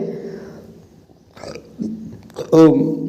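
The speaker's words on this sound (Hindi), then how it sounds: "खाना खा के अभी आया हूँ तो डकार थोड़ा सा ले रहा हूँ" A man gives a single deep burp up close after a meal, following a few quiet mouth sounds and short bits of low, muffled vocal noise.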